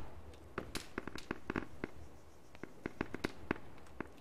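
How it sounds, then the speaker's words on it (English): Mortar tubes fire in a video game with Vcom AI, a rapid irregular series of sharp popping cracks, fairly faint and with no talk. "there's the mortar firing."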